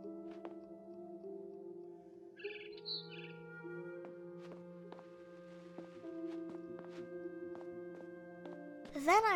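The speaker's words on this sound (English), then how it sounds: "Then I heard chirping outside my window. It was a barn swallow going back to her nest." Barn swallow chirps in the video game What Remains of Edith Finch, a quick burst of high twittering notes over sustained tonal background music, with a rising warbling call near the end.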